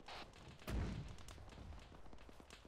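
A single artillery gun fires in a video game, one deep thump with a rolling rumble that fades through scattered crackles, fairly distant and quiet.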